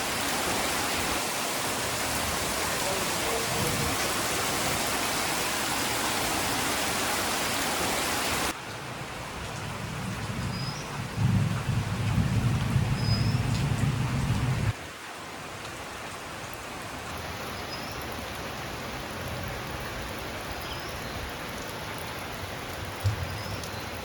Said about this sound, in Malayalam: അതിൻ്റെ കൂടെ മഴയും തുടങ്ങിയിരിക്കുന്നു